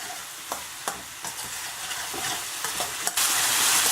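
Sliced mushrooms stir-fry in a wok for chicken chow mein, with a bright, steady sizzle and a series of sharp spatula scrapes and clacks that build into a louder hiss near the end.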